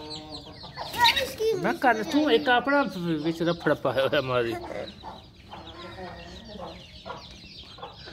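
Hens and a rooster cluck and squawk close by in a farmyard scuffle, a burst of loud agitated calls that trails off into softer clucks, with someone talking throughout.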